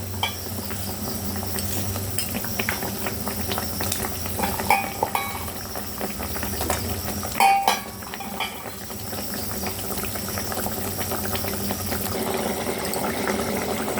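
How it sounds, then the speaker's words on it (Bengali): Rohu fish curry gravy bubbling in a pan, a steady close simmer and rolling boil heard alone throughout, with a brief clink of utensils midway. "এবার ঝোলটা ফুটছে"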